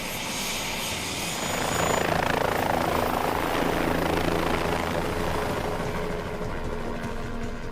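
A helicopter's loud, steady rotor and engine roar, swelling slightly as it passes close, continuous for the whole stretch.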